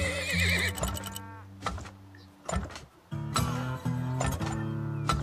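A horse whinnies loudly, then snorts, amid bright synthetic game tones and short electronic chimes in the video game Turmoil.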